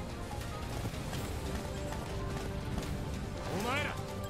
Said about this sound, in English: Alright, horsey, come on, let's go.